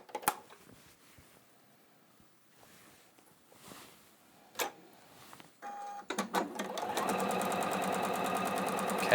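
A Juki sewing machine starts up after a few quiet clicks and then stitches steadily and rapidly at close range, its rhythmic needle clatter filling the final few seconds.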